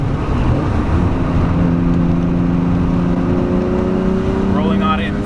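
A Nissan Skyline R33 GTR V Spec is given gas while driving, its engine note climbing steadily in pitch as it accelerates, heard from inside the car over road and wind noise.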